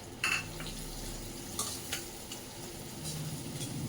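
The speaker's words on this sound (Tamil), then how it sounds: "இந்த ஸ்டேஜில் கட் பண்ணி வச்ச சின்ன வெங்காயத்தை சேர்த்துக்குவோம்" Chopped small onions (shallots) dropped into hot oil with golden-browned garlic, giving a low, steady frying hiss with a few light clinks and scrapes of utensil against pan, fairly quiet.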